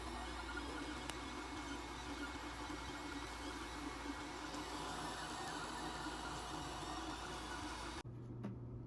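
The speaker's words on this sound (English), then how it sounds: "let's get this model on the printer" A steady mechanical hum with a low whirring drone runs for several seconds as a 3D printer prints a kaiju toy model, then cuts to near quiet at the end.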